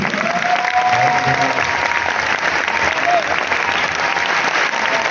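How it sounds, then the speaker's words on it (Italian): Festival audience applauding at the Trieste Science + Fiction Festival after a film presentation; dense, steady clapping fills the whole stretch at a loud, even level, with faint tonal traces briefly sounding under it. "Signori, signore, un grandissimo applauso a Jean-Louis."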